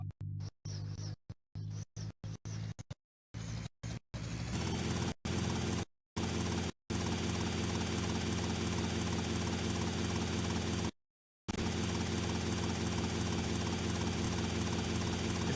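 Helicopter in the video game Grand Theft Auto: Vice City, a steady loud rotor and engine drone running continuously, broken by brief gaps and cuts early on.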